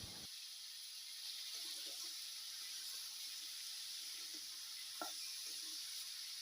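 Cut pumpkin pieces sizzle in hot oil seasoned with cumin seeds, a steady, quiet frying hiss with a few faint pops and stirs.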